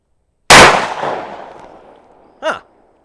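A Smith & Wesson 686 revolver fires one loud, close shot with a trailing echo, followed a moment later by a brief ringing metallic ping.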